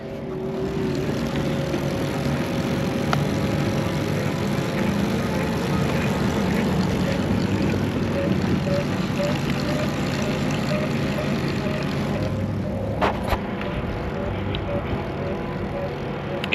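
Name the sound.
electric motor of a TerraTrike Charge trike running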